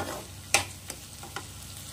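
Spice paste cooked down in oil for Bengali jackfruit (echor) kalia sizzles faintly in a pan, with a few sharp scrape-and-stir knocks of a spatula over a soft frying hiss.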